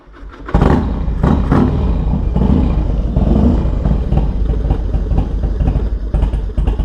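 A carbureted Harley-Davidson Dyna FXDX motorcycle engine runs steadily up close, a loud, continuous rumbling idle with a rough, pulsing throb and no voices over it.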